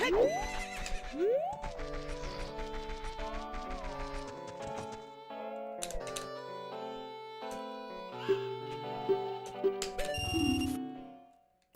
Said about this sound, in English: Alright, we're going to the horsies.